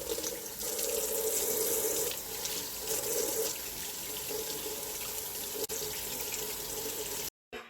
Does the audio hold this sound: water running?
yes